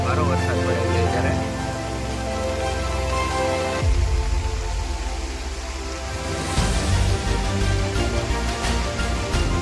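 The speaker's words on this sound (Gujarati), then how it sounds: "વરસાદ તો વધ્યો, સારો વરસાદ પડે છે ત્યારે" Heavy rain pours down outside near an old Mahadev cave, a continuous loud hiss of falling water lasting the whole stretch, with a voice talking now and then over it.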